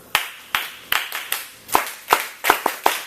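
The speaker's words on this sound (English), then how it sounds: "I'm going to clap like this" Sharp, separate hand claps in an uneven rhythm, about ten in three seconds, close and fairly loud, as a classroom of students echoes a teacher's clap pattern back to regain attention.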